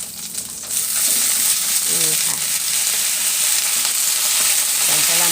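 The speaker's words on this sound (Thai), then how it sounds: "ผัดกะหล่ำปีให้สุกยุบตัวลง" Cabbage stir-frying with garlic in a hot pan, a loud continuous sizzle with scraping stirs from a spatula and faint tonal squeaks, close by.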